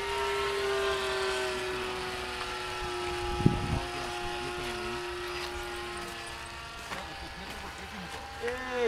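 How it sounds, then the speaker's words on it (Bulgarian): Small motor droning with a steady high-pitched buzz and layered harmonics, a passing aircraft-like tone that dips and returns, while people speak in the background. "Бръмчуе. Да, мотора заминал."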